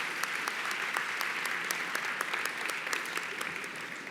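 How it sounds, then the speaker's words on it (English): An audience applauds at a philanthropy awards ceremony with steady, dense clapping that holds level throughout, moderately loud and with no voices over it. "Once again, a round of applause"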